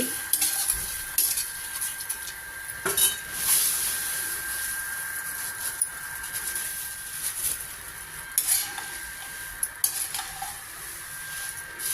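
Puffed rice with turmeric is stir-roasted in a hot kadai for homemade masala puffed rice, giving a continuous dry rustling hiss with scraping strokes of the spoon against the pan throughout, no voices.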